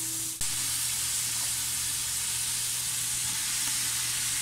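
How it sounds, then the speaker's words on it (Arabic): Chicken pieces fry in a hot pan with garlic and onion, giving a loud, steady sizzle that starts abruptly after a brief quiet moment and holds continuously with no talking. "بعدين رح نضيف الدجاج."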